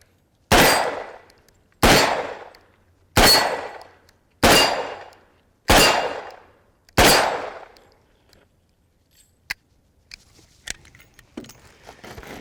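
A Ruger GP100 Match Champion revolver fires six loud, evenly spaced shots at steel targets from 15 yards. Each shot rings off sharply, and faint clinks and handling sounds follow.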